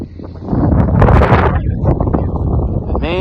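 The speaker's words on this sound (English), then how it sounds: "Man, it is windy." Strong wind buffets the microphone in a steady broadband roar, with a voice briefly heard over it near the end.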